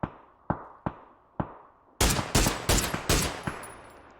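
Video game gunshots during a competitive CBA match battle: four single sharp reports spaced about half a second apart, then a louder, rapid cluster of overlapping shots, close and punchy with no talk over them.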